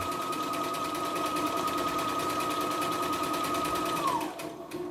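A CNY E960 portable embroidery machine stitches a buttonhole with a fast, steady mechanical whir and rapid needle rhythm, close and loud, running alone for about four seconds before it slows and stops.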